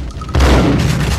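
Gunfire in the Max Payne video game, a deep booming shot that starts suddenly and rumbles on, loud and close.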